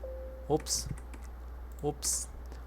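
Two short clusters of computer keyboard key presses, an Alt and Enter combination typed in a spreadsheet program, sound close and crisp over a low steady hum, with a pause between them.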